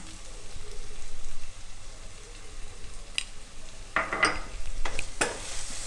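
Pork ribs fry in a pan with turmeric, meat masala and chili powder while being stirred, a steady crackling sizzle broken by scraping utensil strokes in the second half, close and fairly loud with no speech.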